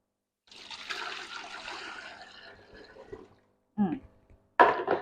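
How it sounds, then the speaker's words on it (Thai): Water poured into a wastewater separator spin tank with a soft splashing trickle for a few seconds, then two short louder gushes after a pause. "แล้วเราก็เทน้ำลงไป"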